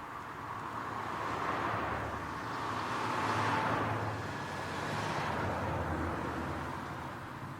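Porsche 928 sports cars pass by outdoors, their engine and tyre noise swelling and fading in broad whooshes one after another, moderately distant with some wind.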